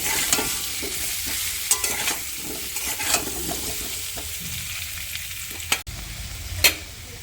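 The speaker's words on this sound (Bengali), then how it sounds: "দিয়ে ভালো করে নাড়া দিয়ে নেবো আলুটা একটু লাল করে ভেজে নেব" Potatoes with turmeric frying in oil in a pan, stirred to brown them: an even sizzle throughout, broken by periodic scraping strokes of a spatula against the pan and a sharp clack near the end, with no talking.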